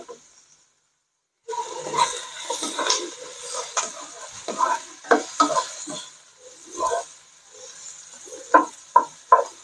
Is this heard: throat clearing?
no